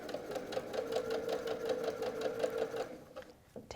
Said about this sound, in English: We're going to start sewing